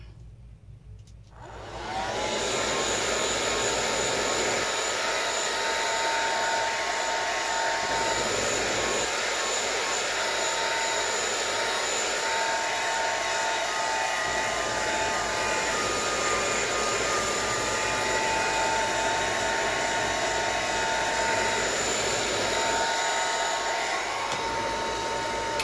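A handheld dryer drying paint on a mixed media travelers notebook made from Dollar Tree placemats switches on after a brief quiet start, then blows a steady, loud whooshing hum without a break.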